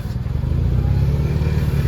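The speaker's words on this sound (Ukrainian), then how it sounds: "Трьохциліндровий трактор, 21 кінська сила" A three-cylinder, 21-horsepower Japanese mini tractor engine runs steadily at idle, a low chugging drone with a faint rattle, close by and without talk.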